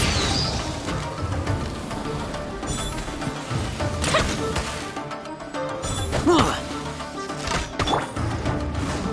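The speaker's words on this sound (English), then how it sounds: "Here come the fireworks!" Fireworks burst in Genshin Impact during a story quest, with several sharp crashing explosions around four, six and eight seconds over a dense, busy game soundtrack and effects.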